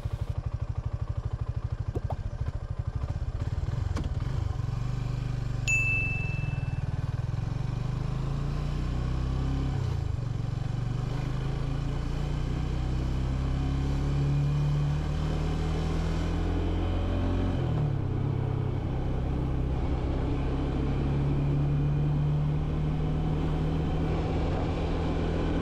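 A vehicle engine accelerating on San Juanico Bridge drones loudly and continuously, its pitch climbing and then dropping several times as the gears shift up.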